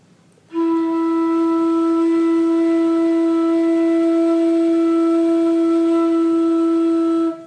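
A single steady flute note is held for several seconds with no variation, clear and fairly loud, then stops abruptly.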